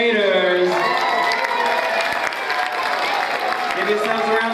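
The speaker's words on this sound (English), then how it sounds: "Give yourselves a round of applause" Audience applause and cheering for first graders at a school Authors' Tea event, a dense sustained wash of clapping with crowd voices and children's shouts mixed in throughout.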